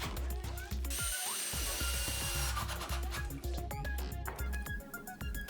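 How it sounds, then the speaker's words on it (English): Wooden parts of a band saw fence's L-shaped body being screwed together, with close ratcheting clicks and short bursts of a power driver repeating steadily throughout. "Now I screw together the two parts that make up the fence's L-shaped body."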